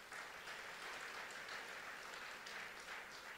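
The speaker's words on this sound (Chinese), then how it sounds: "让我们给神一个掌声好不好" Church congregation applauding, a steady, faint wash of many hands clapping continuously for a few seconds, heard from a distance with no speech.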